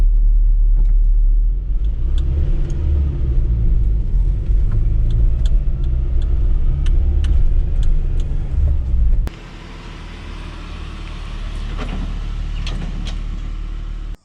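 Lowered Nissan D21 pickup truck cruising down the road, a steady low engine and road rumble that continues throughout, dropping in level partway through and then holding a quieter, even drone.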